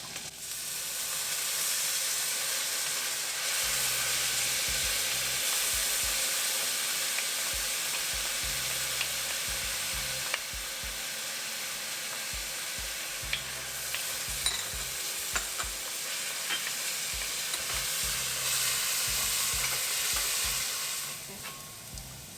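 Ginger and garlic for matar paneer frying in a pan, a loud continuous sizzle with occasional stirring clicks, close up, running alone under soft background music for about twenty seconds.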